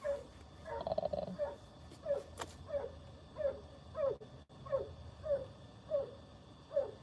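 Dog whimpering in a series of short, high, plaintive whines, about eight of them at a regular pace, close by and clear over a quiet room hum.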